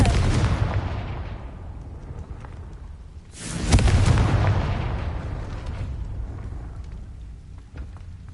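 Confringo blasting spell from a Hogwarts video game bursting open a gate: a loud, booming explosion that swells suddenly midway and rumbles off slowly, over a crackling, noisy game background.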